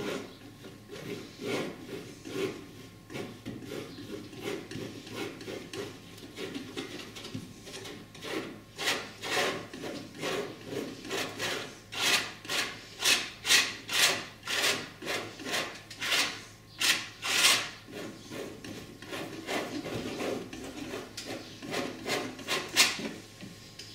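Palette knife spreading and blending oil paint on a surface, scraping strokes in a steady repeated rhythm, close and fairly loud, no voices.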